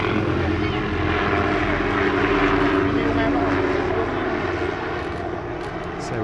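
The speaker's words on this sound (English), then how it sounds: "the MD530Gs continue to operate low in front of the crowd" MD530G helicopters fly low in front of the crowd at an airshow, a loud continuous engine and rotor drone that holds steady throughout, with a voice heard over it.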